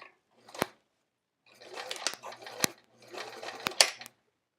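A home sewing machine back tacks fabric pockets on a travel art folio, giving bursts of quick mechanical stitching chatter with sharp clicks between them. The sound is close and moderately loud, with no talking.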